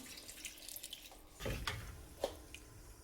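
Water splashes and gurgles in short bursts, poured from a tumbler into a pot of rice, with a couple of sharper splashes over a quiet background.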